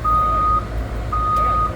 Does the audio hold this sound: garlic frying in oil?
no